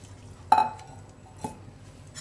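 A spoon stirs masoor makhni lentils in a metal pot, giving two distinct clinks against the side about a second apart over soft stirring noise.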